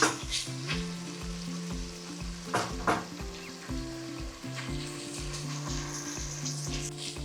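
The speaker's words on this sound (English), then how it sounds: "So you have to give this a nice stir. I don't want to burn this." Food for jollof rice fries in a pot while being stirred, a steady low sizzle with periodic scraping and clattering strokes from the spoon, close and moderately quiet with no speech.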